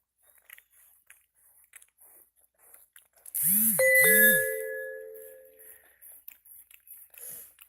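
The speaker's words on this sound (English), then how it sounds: "Oh, I forgot to turn the notifications off." A notification bell rings twice in quick succession, clear bright chimes with a ringing tail, loud against an otherwise quiet room with faint background sounds.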